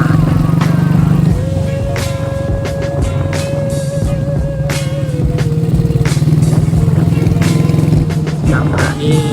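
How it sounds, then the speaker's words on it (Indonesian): A Honda Astrea Dream motorcycle with a loud aftermarket exhaust revs and rides through village roads, with a close, throaty engine drone and sharp popping bursts that hold steady under the rider's talk. "Ini kalau udah digas sedikit aja itu udah suaranya kencang banget ya."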